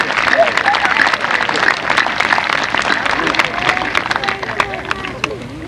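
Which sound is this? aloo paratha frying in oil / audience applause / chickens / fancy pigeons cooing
audience applause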